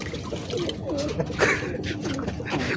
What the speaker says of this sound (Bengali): ওয়াও, কি অসাধারণ কবুতর